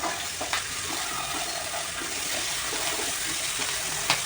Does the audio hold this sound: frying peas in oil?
yes